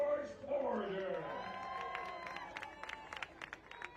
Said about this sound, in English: George Porter gets a nice round of applause as he hits the pitch for the first time tonight